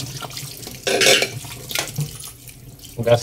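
Plant leaves are rinsed under running water at a sink for a homemade organic mosquito repellent, with a loud burst of splashing in the middle and shorter watery bursts around it.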